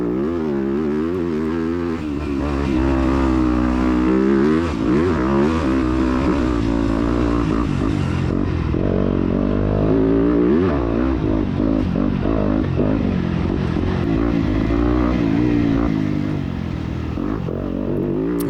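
A dirt bike engine revs continuously while being ridden, loud and close, its pitch rising and falling with throttle changes over a steady rumble, with wind buffeting throughout.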